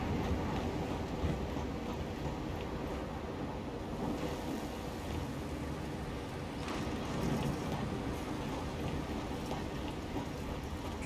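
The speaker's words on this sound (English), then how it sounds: "Let's get that train turned around." A train in the Gears 5 video game makes a steady, loud, dense rumble of rolling wheels and mechanical noise that runs unbroken throughout, with no voices.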